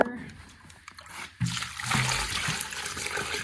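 Water pours onto plants in a homestead garden: a quiet trickle first, then a fuller splashing stream that keeps flowing steadily, with a short voice heard early.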